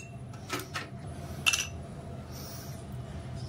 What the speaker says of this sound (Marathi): त्यानंतर बर्फाचे थोडे तुकडे टाकूया